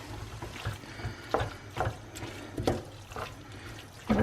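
Water is poured into a pot of simmering tomato sauce with Italian herbs, producing several short splashy gurgles at irregular intervals over a low steady bubbling, close and moderately quiet.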